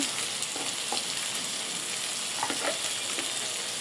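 Country chicken fries in a pan with ginger paste and poppy seed paste, making a soft, continuous sizzle. Scattered light stirring clicks and scrapes sit on top, fairly quiet and without voices.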